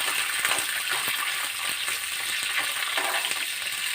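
Green chillies and ivy gourd (dondakaya) frying in a pan, a loud, dense, unbroken sizzle with faint crackles running throughout.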